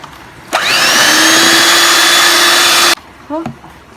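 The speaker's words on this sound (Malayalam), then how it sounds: "അത് കുറേശ്ശെ ആയിട്ട് നന്നായിട്ടൊന്ന് വീണ്ടും ബീറ്റ് ചെയ്തെടുക്കാം. ബാക്കി കൂടി ഇട്ട് നന്നായിട്ട് ബീറ്റ് ചെയ്യാം" An electric hand mixer beats butter and powdered sugar for a butterscotch cake batter, a steady high motor whine running about two and a half seconds before cutting off, followed by a few soft clinks.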